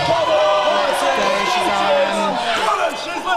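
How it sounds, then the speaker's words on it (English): A crowd at a university weightlifting competition cheers and shouts loud support for a female lifter, a dense roar of overlapping voices and whoops close by, with a commentator talking over it. "I can barely hear what I'm saying down the mic as they shout their support for her"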